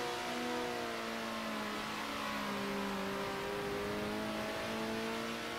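Race cars in the video game Circuit Superstars drone steadily through the whole stretch, several engine tones rising and falling together as the pack circulates, continuous and fairly loud with no talking.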